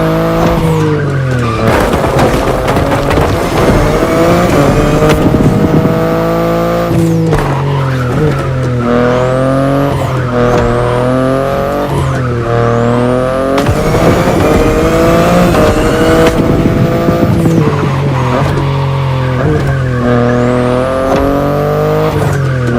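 A BMW i8 hybrid sports car is driven in the racing video game Crew Motorfest. Its engine roars loud and constant, repeatedly revving up and dropping as it shifts, with tire squeal layered throughout.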